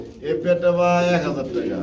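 Giribaz pigeon cooing with soft rolling, throaty notes, close by, mixed with someone talking over it.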